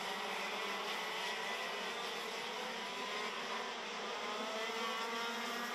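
KZ2 racing karts at a Landsard round pre-final run past together in a train, their two-stroke engines blending into a steady, loud, high-pitched buzzing drone throughout.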